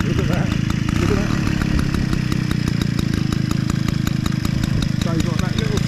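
A small pedal-started engine with a whirring flywheel runs steadily and loudly up close, a continuous buzzing drone with fast regular pulsing throughout.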